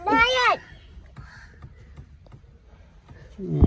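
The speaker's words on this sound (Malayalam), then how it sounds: "കാക്ക" A crow caws loudly once nearby, a harsh drawn-out call, followed by quiet background and a brief voice near the end.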